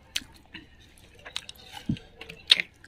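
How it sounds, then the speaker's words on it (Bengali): Someone eating a cooked chicken leg piece outdoors, with a few soft, close chewing and biting sounds spread across a quiet moment, plus one sharp dull thump and a brief clink. "আমি লেগ পিস খাচ্ছি, সবাই দেখো"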